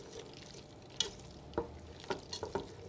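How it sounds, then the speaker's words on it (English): A roux cooking with vegetables in a pan for a tomato sauce with beef stock: a soft, steady sizzle with several quiet scrapes of stirring, close and gentle. "This roux we want to cook for about 10 minutes with the vegetables."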